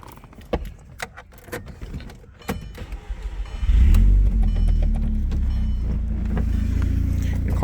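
A tuned Audi TT with a stage 2 clutch is started after some key rattling and handling noises, then settles into a loud, steady, deep idle close by.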